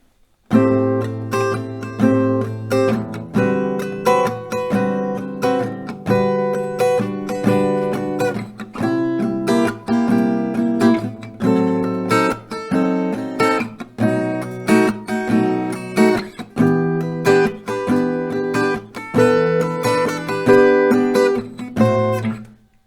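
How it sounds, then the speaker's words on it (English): Acoustic guitar strumming chords in a steady rhythm, each chord rung out twice before changing, close and clear with no voices. "You're gonna play 2 strumming rounds per chord for all the first 6 chords"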